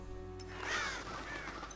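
A raven in the Grim Soul dark fantasy survival game gives a single harsh, rasping caw after a short click, close and fairly loud, with no talking.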